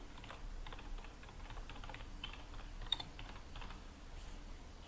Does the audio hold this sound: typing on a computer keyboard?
yes